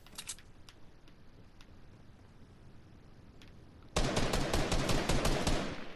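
Gunfire in the Fortnite video game: a few scattered faint single shots, then a sudden loud sustained burst of rapid automatic fire lasting about two seconds before easing off.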